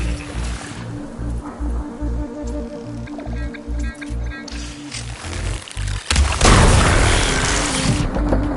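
Glowing crystals bursting in Horizon Forbidden West, a loud rumbling blast erupting near the end after a stretch of pulsing game music and ambience.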